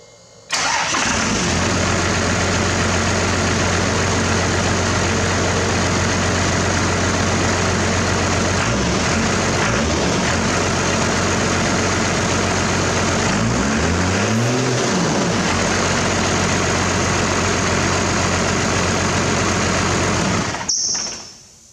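A first-generation truck engine, just given a timing advance, cranks and fires, then settles into a steady, loud idle that runs close by without voices and cuts off abruptly at the end.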